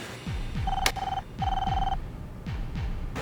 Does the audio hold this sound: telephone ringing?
yes